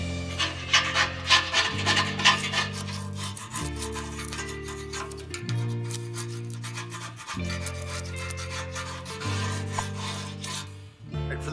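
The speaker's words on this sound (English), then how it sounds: "I'm going to use the edge to scrape off all of the excess material on the LP tank itself" A multi-tool edge rasps steadily as it scrapes excess material off an RV LP tank, with repeated rubbing strokes close by under louder background music.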